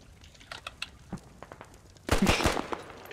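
A gun fires in a video game with a short, dense burst of rapid shots, loud and close, after a stretch of quieter clicks and rustling.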